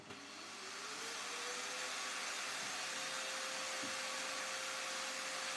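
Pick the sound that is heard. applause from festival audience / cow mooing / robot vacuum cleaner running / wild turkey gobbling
robot vacuum cleaner running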